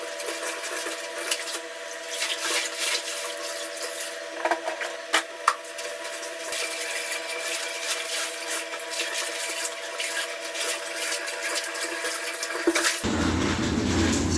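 Laundry being rinsed by hand in weak running water, a steady splashing and trickling wash with a few knocks and clunks, close by, ending in a louder surge of water.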